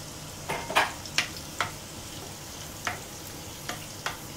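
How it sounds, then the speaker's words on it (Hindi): Chili and garlic frying in a pan for dry channa masala, a steady close sizzle with a string of distinct spatula scrapes and taps spaced through it. "देख रहे हैं चिली हमारी फ्राई हो रही है हो गई है गार्लिक भी फ्राई हो गया है"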